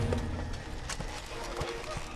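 Clip-clop of horses' hooves from a vast mounted host with herds of goats and sheep, faint and irregular under a narrator's voice.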